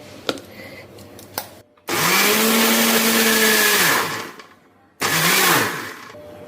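A mixer grinder grinds chutney ingredients with black salt in a home kitchen, starting with a loud whir that runs about two seconds, stops, then restarts briefly. Faint clatter comes before the first run.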